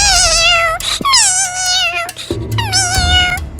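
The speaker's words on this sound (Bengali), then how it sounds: "কিন্তু বিড়ালটা কাঁদছে কেন ওভাবে?" Cartoon cat meowing and crying, three drawn-out wailing meows in close succession, loud and near, with faint background sounds between them.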